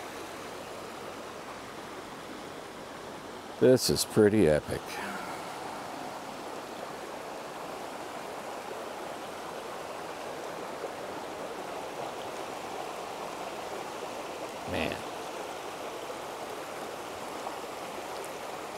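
Continuous rush of a shallow creek in the southeastern hills, steady and close, with someone speaking briefly early on and a short bump later.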